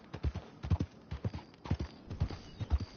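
A borrowed horse's hooves clip-clop in a steady, close walking rhythm, each footfall crisp and distinct, with no voices over them.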